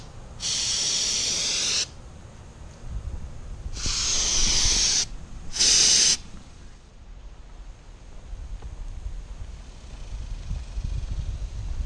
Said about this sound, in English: this Rust-Oleum leak seal. And so I'm going to spray that to cover all these pole holes